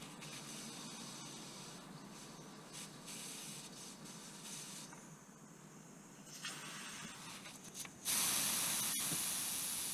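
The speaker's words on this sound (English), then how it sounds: "Removing the valve core is the quickest and easiest way of deflating the tyre." Air hisses out of a bicycle tyre through the open valve once its core is removed, a steady, fairly quiet rush that swells louder and brighter near the end, with no talking.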